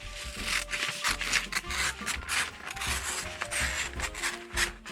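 Scissors cut through a paper stocking pattern for a patchwork sewing project, a close, quiet run of rough snipping and rustling strokes in an uneven rhythm.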